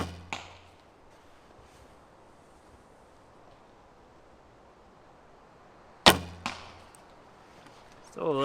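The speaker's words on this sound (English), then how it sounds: "Still a little wonky arrow flight, but not too bad." An arrow loosed from an Elite Archery Flex short-riser recurve bow: a sharp snap of string and limbs, followed soon by a second crisp shot, then a closer thud and rustle, outdoors against steady wind noise.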